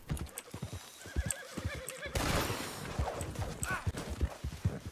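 In a video game, horse hooves clip-clop steadily over a busy background while a horse neighs loudly partway through, with a few more snorts and whinnies after that.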